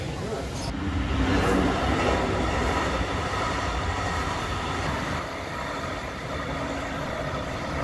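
A train rumbles past steadily and fairly close, a broad continuous roar of rolling wheels and cars lasting throughout.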